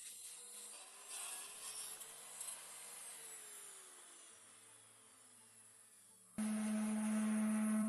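Hand sawing through the end of a chestnut wood beam at a 45-degree angle during roof restoration on an old cabin, a steady rasping stroke that fades, then a sudden louder buzzing tool noise in the final second.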